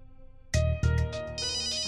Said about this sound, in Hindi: अब मेरे बॉस का फोन है, कुछ जरूरी काम होगा।